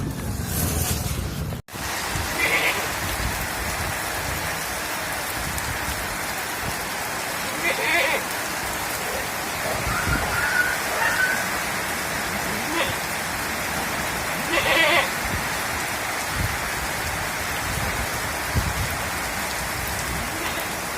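Heavy rain falls hard and continuously outside a closed shop, a loud, close, steady roar of drops with occasional splashy bursts rising above the wash.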